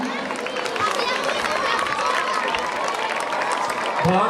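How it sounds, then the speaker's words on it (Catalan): Applause from an outdoor crowd at a Valencian schools gathering in Biar, a dense, steady wash of clapping with crowd noise lasting the whole stretch. "I fort aplaudiment."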